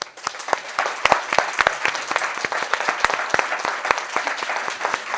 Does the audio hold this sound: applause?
yes